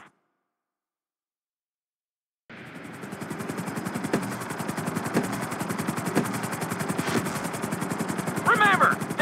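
A helicopter in GTA V flight training: after a silent opening, rotor chopping kicks in and holds loud and steady with a rapid thumping pulse, and a brief voice-like sound comes near the end.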